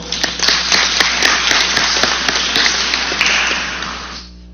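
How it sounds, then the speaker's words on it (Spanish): Audience at an education forum in Cusco applauding, sustained sharp clapping from many hands that continues strongly and then fades out near the end. "Voto de aplauso, por favor."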